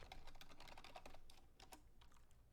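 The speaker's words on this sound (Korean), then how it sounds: "키보드로 입력을 해주시면" Fingers type on a computer keyboard with a rapid, continuous stream of soft key clicks. It stays faint and even for a few seconds with no pauses.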